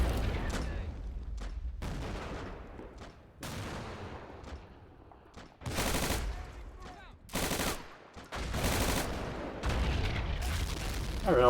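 Gunfire and explosions from the Army Men: Plastic Wars video game, repeated bursts and booms in loud clusters with brief gaps between them.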